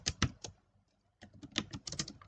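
Quick runs of keystrokes on a computer keyboard, a burst of clicks, a short pause, then a denser flurry of taps, close and clear with no talking.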